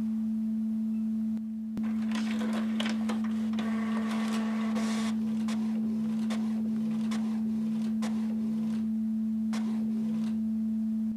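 A printer printing out a graph sent from an Xplorer GLX data logger, giving a steady mechanical whir with repeated short clicks and feed strokes over a constant electrical hum, close and with no talking.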